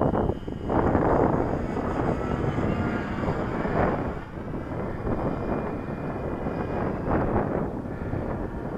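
A Sopwith Camel biplane makes a slow pass, its engine droning loud and steady with swelling and fading surges, mixed with gusts of wind noise on the microphone.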